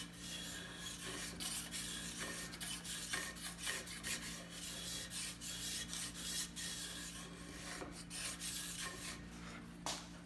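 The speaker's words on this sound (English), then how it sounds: "I can flex the scraper this way and take cuts on the outside of this edge." A steel card scraper flexed against a wooden edge takes repeated rasping cuts, a steady run of scratchy strokes with short pauses, close and fairly quiet, with no talking.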